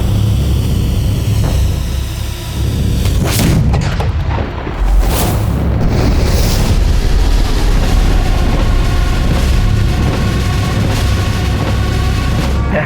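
A .3 caliber mini cannon fires outdoors, giving sharp booms around three and five seconds into a loud, rumbling, noisy background that runs throughout, with no voices.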